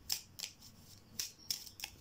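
A card drawn from a deck during a card reading: a few quick, crisp swishes and snaps of card against card, faint and close, spaced over about two seconds with no talking.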